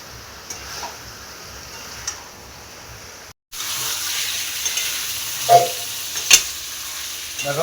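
Fried potatoes being stirred into chicken curry in a pan, giving a low sizzle with soft stirring scrapes and a few sharp clinks of a utensil against the pan, close by after a brief silence.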